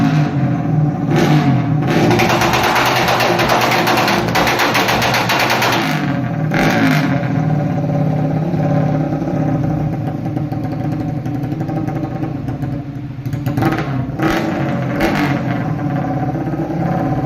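During tuning, a motorcycle engine roars in repeated loud revs with brief dips between bursts, heard close up as a harsh, steady mechanical drone.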